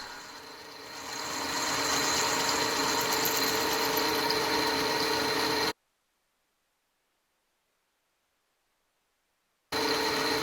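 A cheap Tractor Supply drill bit bores into normalized steel with a steady, faint, high-pitched screech and grinding whine. The sound cuts out to silence for a few seconds, then resumes.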